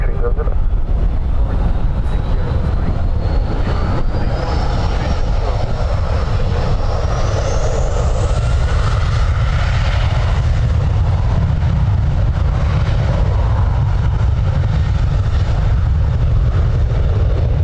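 A plane takes off from runway 10 right at Dublin Airport in strong wind, its loud, continuous engine roar holding steady with a rising whine throughout.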